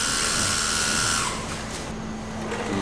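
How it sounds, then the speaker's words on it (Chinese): A small motorized tool whirs loudly, loosening a screw on an AL-100 machine, with a high buzzing whine that shifts pitch partway through and continues steadily, close and alone. "松开这个螺丝"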